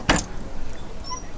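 A door is opened as an audio drama sound effect, a single short clack near the start followed by a quiet, low room tone.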